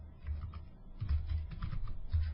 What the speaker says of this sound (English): And here I'm simply going to type X space coordinate.